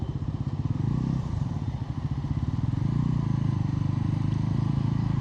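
Bajaj Pulsar NS 400Z 2025 model motorcycle engine while riding, a loud, steady, throbbing rumble with rapid pulsing that holds throughout, heard close and alone without talk.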